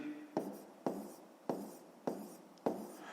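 A pen writes a math fraction by hand on paper in a quiet room: five crisp strokes at a steady rhythm about half a second apart, each a sharp scratch that fades quickly, with no voices.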